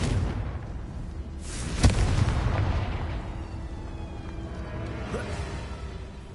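A Confringo fire spell bursts in Hogwarts Legacy, a single sharp explosive crack followed by a rumbling, crackling blast that fades over a few seconds against low game ambience.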